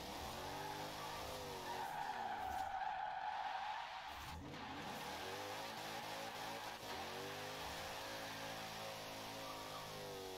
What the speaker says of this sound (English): Come on, plenty of wheel spin.